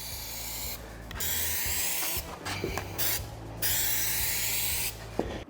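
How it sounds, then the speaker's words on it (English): Spray gun applying two coats of adhesive to drywall on a garage build site, several long hissing bursts of a few seconds each separated by short pauses, with a steady low hum underneath. "I need to work on my spraying skills."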